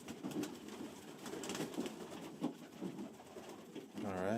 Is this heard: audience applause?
no